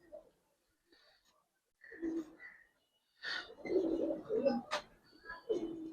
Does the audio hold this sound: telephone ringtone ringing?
no